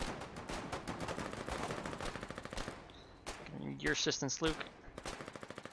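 Rapid machine gun bursts in the World War II style video game Foxhole, firing steadily and loudly for the first half, then broken up as several voices talk over the later bursts.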